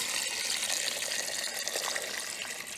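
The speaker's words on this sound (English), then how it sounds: "Cover it with water." Water pours steadily into a cooking pot holding cocoyam for Nigerian bitterleaf (onugbu) soup, a continuous close splashing rush with no talk.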